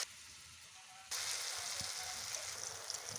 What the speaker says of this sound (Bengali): আবারও আমি কোপ্তাগুলো দিয়ে দিচ্ছি।